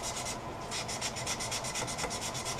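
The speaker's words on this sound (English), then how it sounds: "I sand the rough spot with 320." Sandpaper of 320 grit rubbed by hand over a rough spot on a redwood bowl, a close, soft rhythmic scratching with quick back-and-forth strokes repeating steadily.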